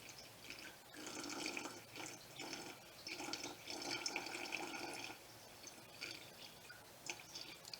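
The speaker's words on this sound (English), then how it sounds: "First, I'm going to add some water. Yes, this is just water. It's actually rainwater." Rainwater poured into a glass terrarium before adding moss: a soft, close splashing and trickling pour in bursts, with brief pauses and drips between streams, no talking.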